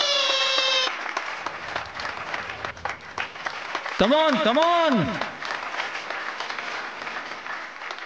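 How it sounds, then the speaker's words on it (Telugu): A TV serial audience applauds at the start of a contest, steady clapping under excited shouting voices and a brief tonal sound at the opening. "కమాన్ కమాన్, చప్పట్లు."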